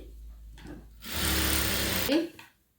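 A sewing machine stitching a boat neck blouse runs in one loud burst of about a second, with brief talk before and after.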